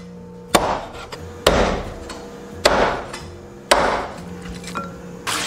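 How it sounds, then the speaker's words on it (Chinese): Cleaver chopping a duck into small pieces on a board, five sharp, heavy thwacks spaced about a second apart, close and alone with no talk. "其余的我们给它斩成小块备用"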